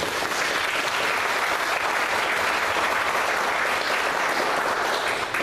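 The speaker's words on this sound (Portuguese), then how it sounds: "Vamos aplaudir a bendita palavra." Church congregation applauding after a Bible reading, a dense, steady wash of many hands clapping that fills the whole stretch at an even, loud level with no voices over it.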